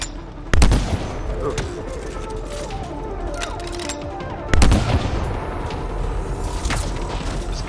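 Two loud, booming gunshots from the player's weapon in the sci-fi game Anthem, about four seconds apart, ringing out over a dense bed of rumbling battle ambience and scattered clatter.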